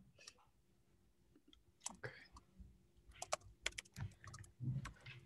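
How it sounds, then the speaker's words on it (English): Keys on a computer keyboard tapped in scattered, irregular clicks, faint and close, with short pauses between bursts and some background noise. "I can hear you typing."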